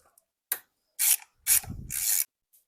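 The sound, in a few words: ratchet undoing power steering reservoir bolt on BMW 750i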